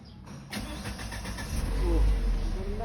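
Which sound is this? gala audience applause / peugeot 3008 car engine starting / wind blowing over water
peugeot 3008 car engine starting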